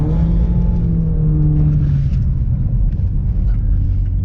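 A BMW 1 Series driving on snowy roads, its engine rumbling loudly from inside the cabin, with a falling tonal whine in the first two seconds before it settles into a steady low drone.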